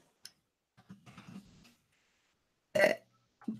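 A single short, fairly loud burp stands out in a quiet room, with a few faint clicks and soft murmurs around it.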